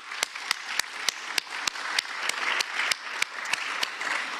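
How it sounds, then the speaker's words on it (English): Audience applause for panelists at an agricultural forum morning session, a steady sustained clapping from a room of people with sharp individual claps standing out throughout. "So a big clap, please, for our panelists, and congratulations for all your achievements."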